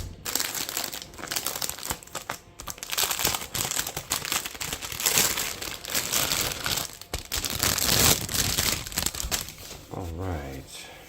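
Packaging is crinkled and torn away from a portable power bank with an AC outlet, giving loud, dense plastic rustling and crunching that runs nonstop and close by.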